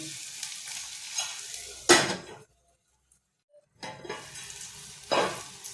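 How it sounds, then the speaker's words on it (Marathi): Tomatoes with turmeric and spices sizzle in a hot pan as a spoon stirs and scrapes them, in two loud bursts broken by a short silent gap, for a Marathi-style hotel-style matki usal. "टाकून घेतल्यानंतर आपल्याला हे जरा असं परतायचं आहे।"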